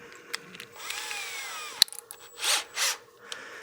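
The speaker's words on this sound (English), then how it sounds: "I'm going to turn my lathe speed down because we are power sanding" A wood lathe turns slowly at about 400–500 RPM while a cake stand is shaped, giving a quiet mechanical whir with thin whining tones, a sharp click, and two short rasping bursts near the end.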